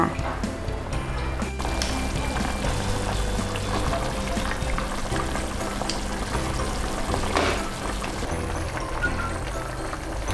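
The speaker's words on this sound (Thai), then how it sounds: "พอแครอทของเรานะคะ กับมันฝรั่งเนี่ยเริ่มสุกแล้วเดี๋ยวเราจะใส่ หอมหัวใหญ่ลงไปค่ะ" A pot of chicken soup with carrot and potato boils steadily as onion goes in. The bubbling and sizzling is dense and close, with occasional clatter from the pot.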